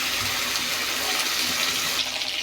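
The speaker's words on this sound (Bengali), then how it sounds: "এখন আমি এগুলো হালকা তেলে ভেজে নেব" Pieces frying lightly in oil in a pan, a steady broadband hiss and crackle held at an even level, with no talk.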